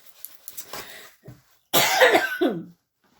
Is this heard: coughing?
yes